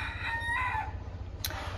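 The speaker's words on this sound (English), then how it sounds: "is that a rooster here in the back?" A rooster crows once, a loud drawn-out call heard close by over a low hum, the phrase fading out before a brief sharp sound.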